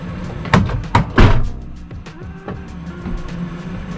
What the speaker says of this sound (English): I'm gonna have to shut the door so we're not.